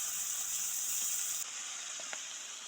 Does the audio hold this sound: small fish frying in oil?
yes